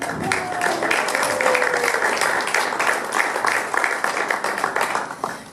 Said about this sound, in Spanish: Aplauso para Carlos